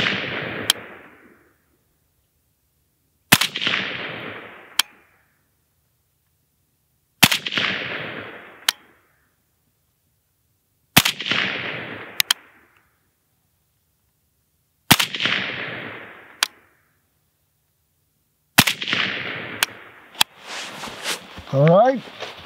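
Kalashnikov USA KR 103 rifle firing single shots in a steady, evenly spaced series, each a loud sharp crack with a brief fading echo, about one every three to four seconds, with a quick rattling clatter at the end.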